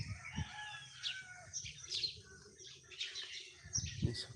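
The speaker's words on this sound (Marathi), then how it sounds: "सकाळचे पक्ष्यांचा आवाज" Several birds call and chirp in the village morning air, including a rooster crowing, with varied calls overlapping at moderate distance.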